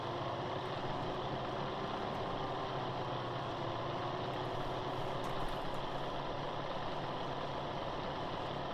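A truck engine idles in the off-road driving game Spintires, a steady low rumble that runs unbroken and fairly quiet with no voices over it.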